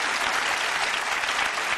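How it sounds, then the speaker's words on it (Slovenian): Studio audience applause on a TV quiz show, a dense, loud, steady wash of many hands clapping close by with no break, lasting the whole stretch. "Najmlađe dame iz publike su prve počele da aplodiraju"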